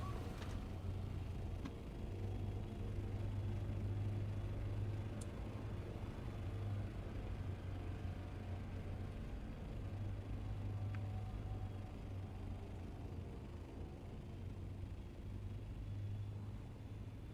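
A buggy in the video game Dune Awakening drives across the deep desert with a steady, droning engine rumble and low road noise throughout. A few faint ticks sit over the continuous hum, and no one talks.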